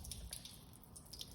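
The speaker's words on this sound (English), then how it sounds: "And look at the water that's coming out of it." Water runs out of the rocker drains of a 2009 Porsche Cayenne, a faint, steady trickle with scattered light drips close by and no talk.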